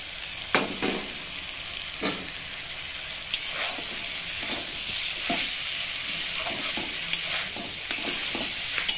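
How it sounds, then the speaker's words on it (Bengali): Malabar spinach leaves dropped into a pan of spice paste frying in oil, a steady sizzle with scattered scraping and clattering stirs throughout, close and moderately loud with no talk. "মশলাটা 2 মিনিট কষিয়ে নিয়েছি, এতে এবার শাকগুলো দিয়ে দেব।"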